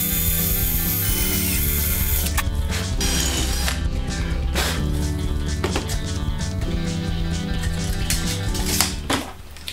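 A drill bores bolt holes through metal angle for a 30-inch metal brake, producing a continuous loud mechanical whine with grinding and rattling, sharp clicks scattered through, and a sudden stop at the end.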